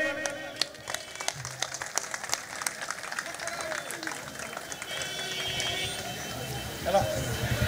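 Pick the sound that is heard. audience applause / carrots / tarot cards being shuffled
audience applause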